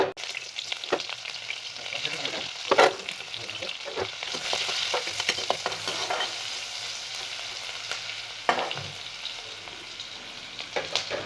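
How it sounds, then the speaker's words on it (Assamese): Chopped onions sizzle steadily in hot oil left over from frying dry fish, with frequent scraping stirs and clinks of a spatula against the pan, close and continuous. "এতিয়া এইখিনি তেলতে মই কাটি থোৱা পিঁয়াজখিনি দি দিম।"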